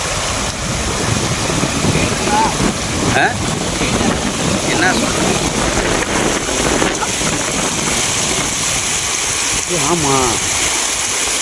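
Continuous rushing water of a stream at the top of Masila Falls, Kolli Hills, fills the scene with a broad, steady roar, mixed with wind buffeting and people talking over it.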